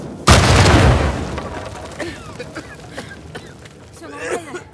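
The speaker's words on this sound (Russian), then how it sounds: "Опять взрывающиеся мумии." Exploding mummies in the video game Uncharted 4 set off one loud booming blast that rumbles and decays over about a second. Scattered debris clatters and a voice follows.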